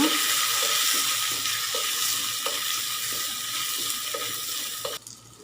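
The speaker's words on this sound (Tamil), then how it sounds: "நம்ம எடுத்து வச்ச வெங்காயம் பூண்டு முழுசாகவே போட்டுக்கோங்க மீன் குழம்புக்கு அப்போ தான் நல்லாயிருக்கும் நல்லா தாளிச்சுக்கோங்க" Whole onion and garlic frying in oil for a Kovai-style fish curry, a dense continuous sizzle with light stirring scrapes and clicks of a utensil against the pan, steady and close, ending with a brief shift near the close.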